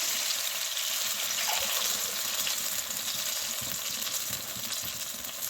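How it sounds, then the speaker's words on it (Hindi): Water being poured into a pot of rice for khichdi, a steady rushing splash that continues throughout, close and fairly loud with no talking. "और अब मैं इसके अंदर पानी डालने लगी"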